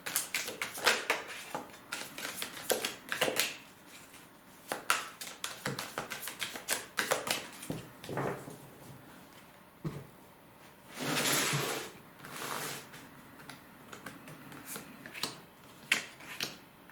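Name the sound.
tarot cards being shuffled and drawn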